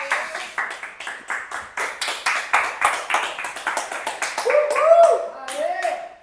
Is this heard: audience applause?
yes